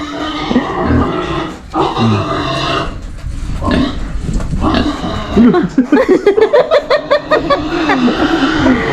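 Pig oinking during a year-end family get-together, with rapid grunting snorts toward the end over people talking and laughing nearby.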